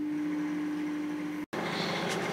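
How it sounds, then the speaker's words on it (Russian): A microwave oven heats a mug cake batter in a home kitchen, giving a steady low electrical hum that cuts out briefly and then resumes, quiet and close with no talking. "Теперь полученную массу ставим в микроволновку."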